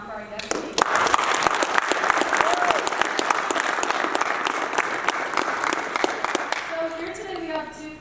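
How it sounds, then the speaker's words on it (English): A high-school audience applauds a guest speaker with steady, fairly loud clapping for several seconds, tapering off as a voice starts near the end. "can we get a round of applause one more time for our guest speaker?"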